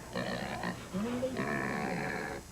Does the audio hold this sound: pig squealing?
yes